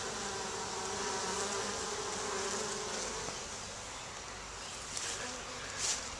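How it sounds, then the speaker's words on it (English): Bees and other pollinators buzzing around blooming plants in June, a dense continuous drone with a few louder passes close by, over faint outdoor background. "Some pollinators now."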